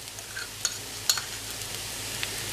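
Garlic and ginger paste is stirred into light-brown frying onions in a pan while cooking egg masala, a steady sizzle with soft scraping strokes and a few spoon clicks, close up with no talking.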